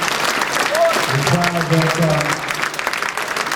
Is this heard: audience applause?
yes